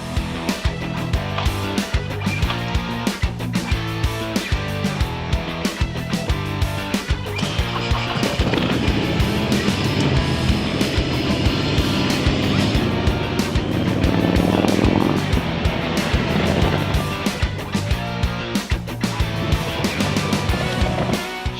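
A motorcycle fitted with an electric shifter roars on a test ride, its engine loud and continuous, rising and falling in pitch as it works through gears.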